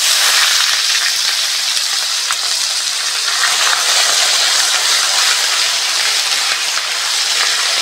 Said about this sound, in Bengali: এবার আমি আদা রসুন বাটাটা দিয়ে দেবো